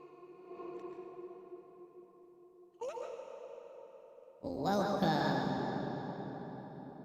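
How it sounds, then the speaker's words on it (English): A voice run through a heavy stadium-style reverb effect, with breathy vocal bursts that bloom into long, washy echoing tails growing louder and denser toward the end. "Can you make it sound like you're in a stadium with tons of reverb?"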